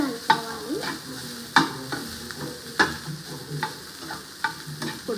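A masala curry mixture is stirred in a pan, with repeated scraping strokes at a steady rhythm over a soft sizzle, close and fairly loud, with no voices.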